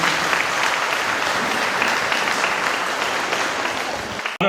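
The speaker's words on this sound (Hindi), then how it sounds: "हम एक बार तालियों की गड़गड़ाहट से इनका हार्दिक अभिनंदन करते हैं" Large crowd at a welcome event for a new MP in Gumla claps loudly and continuously, a dense thunder of applause that holds steady before cutting off abruptly at the end.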